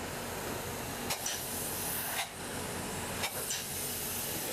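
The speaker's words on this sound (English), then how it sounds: "We're spraying a little bit of foam to seal the top of the inside walls" A steady, loud hiss of insulation foam spraying from a can to seal the tops of walls, continuous with a few brief breaks and bursts.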